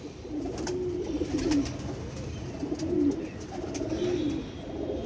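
Rooftop pigeons give several rounded, throaty coos in loose succession, close by and steady.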